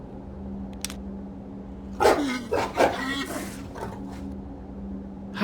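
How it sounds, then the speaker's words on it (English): A clockwork robot dog in the Septerra Core video game gives a few short, sharp synthetic barks in a quick cluster over a low steady hum, with a faint ticking before and a final yip. "How delightful, a clockwork dog."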